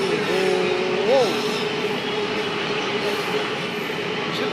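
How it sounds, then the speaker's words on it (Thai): A train running close by near MBK at the Pathumwan intersection in Bangkok, a steady rumble of wheels and cars with a brief rising whine early on, loud and near amid city noise. "รถไฟวิ่งอยู่ MBK ในใกล้ชิดมากๆ"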